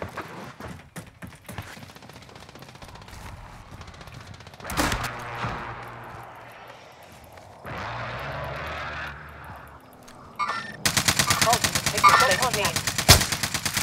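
Gunfire in the video game Call of Duty Warzone, with scattered bursts and single shots from near and far, then a dense rapid automatic volley toward the end, mixed with other game noises and occasional faint voices.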